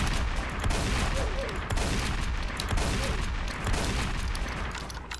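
Pistol and shotgun gunfire in Roblox Prison Life, with a dense barrage of quick shots and booms that runs without a break at a fairly close, steady loudness.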